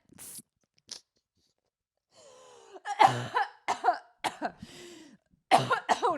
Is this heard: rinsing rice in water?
no